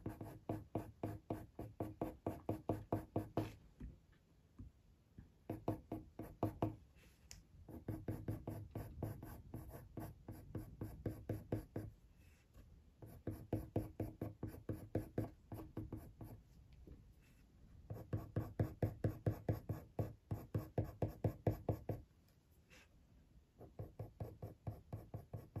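Coloured pencil in burnt umber shading and blending ginger fur on paper in a spaniel drawing, a close, steady scratchy scraping in rhythmic bursts of strokes with short pauses between them.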